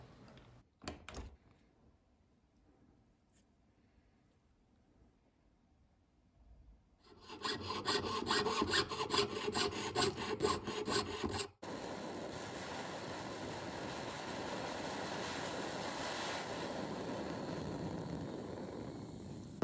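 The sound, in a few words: filing a gold ring to remove excess solder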